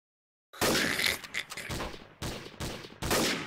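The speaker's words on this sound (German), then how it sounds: "Wie gut der damit schießen kann mit dieser Scheißwaffe" Sniper rifle fire in the video game Trouble in Terrorist Town: loud, sharp shots crack out in separate bursts after a brief silence, each with a ringing tail, spaced roughly half a second to a second apart.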